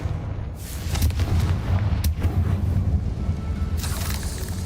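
A Confringo blasting spell explodes in Hogwarts Legacy, a dense rumbling boom with sharp cracks that holds steady for several seconds over a low roar.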